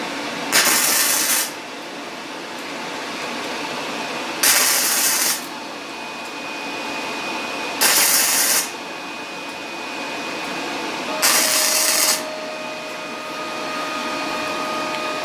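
Parkside PMSG200 welder tack welding two thin stacked metal sheets: four short bursts of bright crackling buzz, each about a second long, spaced a few seconds apart over a steady background hum.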